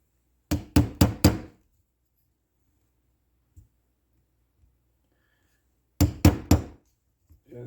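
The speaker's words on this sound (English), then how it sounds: "101 uses for this little tiny hammer." A small hammer taps the caliper tabs on a Honda ATC 200X: two crisp bursts of four quick metallic knocks with silence between and a faint tap in the middle.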